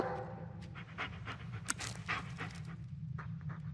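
A dog in the Blair Witch video game pants close by with quick, rhythmic breaths that run steadily the whole time, with a few soft clicks and shuffles behind them.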